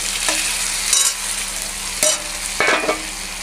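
Potatoes and hilsa fish heads, fried earlier, go back into hot oil in a pan for a cabbage dish. They sizzle steadily and loudly up close, broken by a few sharp clatters of stirring.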